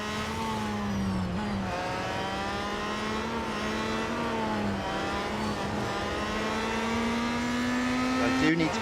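Peugeot 9X8 race car engine in the Real Racing 3 video game, a steady loud synthesized engine whine holding pitch with slight rises and dips throughout, briefly cutting out near the end.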